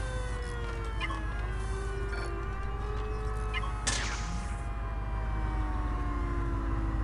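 Emergency vehicle sirens wail steadily in the Prison Architect video game, with rising and falling tones sustained over a constant background hum, fairly loud throughout and with no talking.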